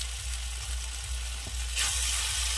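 Turmeric and chilli powder are stirred into water in a pan, giving a steady sizzling hiss with soft, regular scraping strokes and a low hum beneath.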